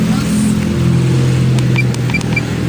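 A Honda Click 125 fuel-injected scooter idles roughly and unsteadily, a steady low engine hum with a slight wavering throb running throughout, close and fairly loud, with brief faint clicks on top.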